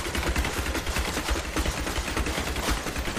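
Rapid machine-gun fire in Diablo 3, a dense, continuous stream of sharp shots rattling evenly for the full few seconds, loud and close with no voices.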